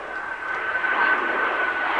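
Turbojet engines of a jet bomber, each of 7,500 pounds thrust, roar steadily and loudly with a thin whining tone, the sound swelling slightly as it passes.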